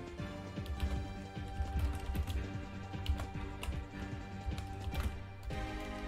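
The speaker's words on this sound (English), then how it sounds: "Why am I typing in Skies of Arcadia here?" Keys on a computer keyboard typed in quick, irregular bursts of sharp clicks and taps, close and moderately loud, with a faint steady background hum and no speech.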